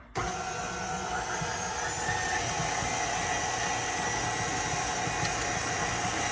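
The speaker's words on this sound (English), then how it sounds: "we're just gonna let this mix together for a minute or two until it becomes crumbly" A stand mixer with its shield on blends coconut truffle filling until crumbly, giving a steady, loud motorized whir that runs unbroken from start to finish with no talking.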